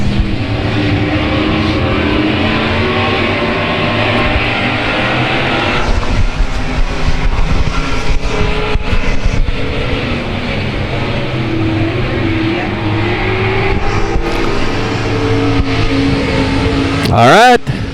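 Race cars roaring off at the green flag at South Texas Speedway, a sustained engine drone with a commentator talking over it throughout and a sharp close engine sweep near the end.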